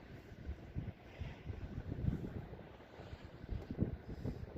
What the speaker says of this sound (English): Wind dies down for a minute, but then it picks back up